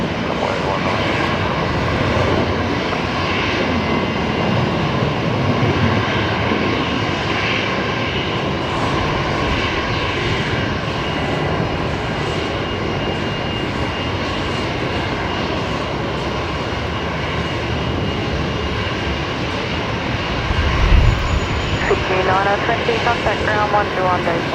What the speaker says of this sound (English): Here comes in another Velocity 737-800 coming in now.